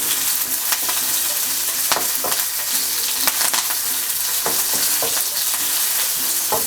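Chopped garlic, ginger and green chilies fry in a pan over a medium flame for a Kuttanadan egg curry, making a loud, steady sizzle with frequent scraping stir strokes, close and without talk.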